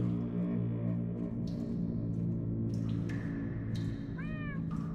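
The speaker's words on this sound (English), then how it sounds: "That almost sounds like... cats?" Cats meow in Minecraft: Story Mode, a rising-and-falling mew near the end standing out over a steady droning game soundscape with hum and music-like tones underneath.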